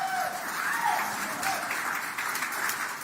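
An audience applauding guests called up at a community event, a steady even wash of clapping with faint talk underneath.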